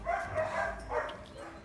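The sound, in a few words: dogs barking at a kennel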